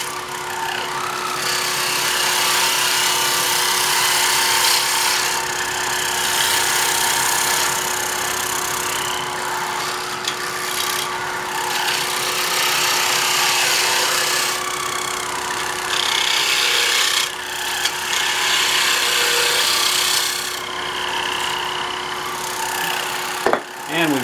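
A wood lathe spins steadily as a tool shapes the base of a wooden knob, a sustained tonal hum joined by rough scraping bursts that come and go as the cutter bites in.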